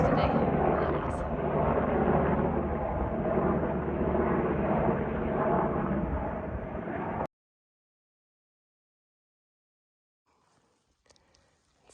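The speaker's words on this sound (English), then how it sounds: "Another helicopters today. There it is." Helicopter passing over a hiking trail near the Pacific Crest Trail southern terminus, a loud steady rotor and engine roar that holds for about seven seconds and then cuts off abruptly, followed by near silence with faint rustling.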